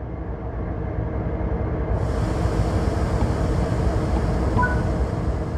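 A heavy, continuous engine rumble with broadband hiss that thickens partway through as a BNSF ES44C4 locomotive in Train Sim World 4 begins to move, with a short faint tone near the end.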